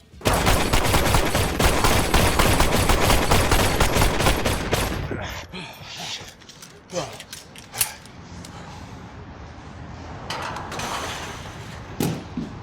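Rapid sustained gunfire from a film shootout crackles loud and dense for about five seconds, then breaks into scattered single shots, clanks and impacts over quieter stretches.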